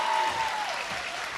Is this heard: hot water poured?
no